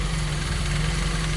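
A carbureted 16-valve four-cylinder 1.3-litre engine in a 1992 Toyota Corolla SEG idles steadily, a close, even low hum with fine vibration and no talk over it.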